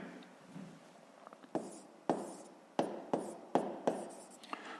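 Pen scratching across notebook paper while working a sixth-grade math exercise on volume, with a series of distinct strokes and taps growing louder toward the end, close and alone.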